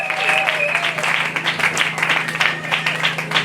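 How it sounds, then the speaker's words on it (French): A church congregation claps and applauds loudly in praise, a dense sustained patter of many hands with a sustained tone and faint voices mixed beneath. "Acclamez très fort pour la gloire du Seigneur."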